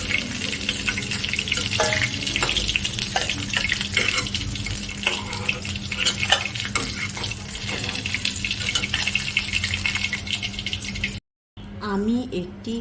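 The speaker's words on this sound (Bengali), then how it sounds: "মাছগুলো ভাজা হয়ে গেছে" Pangas fish frying in hot oil in a pan give a steady, dense sizzle throughout, with small scrapes and clinks and a brief drop to silence near the end.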